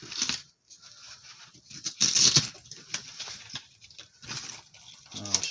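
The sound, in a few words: zippers rattling in a torque wrench case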